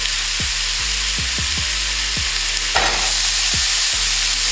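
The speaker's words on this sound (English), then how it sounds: "We're gonna put it into our skillet and start cooking it" A pound of 96% lean ground beef cooks in a skillet with a loud, constant sizzle, punctuated by a series of scraping stirs and a brief burst of hiss partway through.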